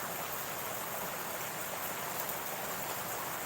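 A steady, rushing wash of heavy morning rain, even and unbroken like running water, heard at a modest level with no talking.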